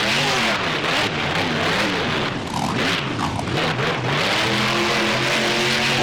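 A monster truck in BeamNG roars steadily as it spins donuts around the BMX Fairgrounds, its engine droning loud and continuous with rising and falling revs and tire noise, no voices.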